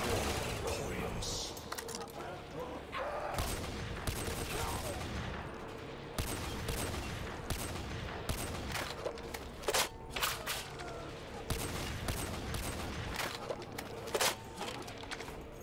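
SMG gunfire in Black Ops 3 Custom Zombies on the Estate of Despair map, loud rapid bursts and repeated volleys throughout, with other game effects mixed in.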